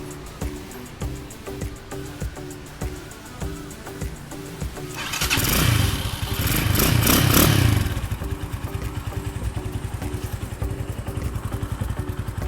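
A 2020 Stallion SM 250 motorcycle idles with a steady, clattering beat, then revs loudly for a few seconds before dropping back to an even idle, close by and alone.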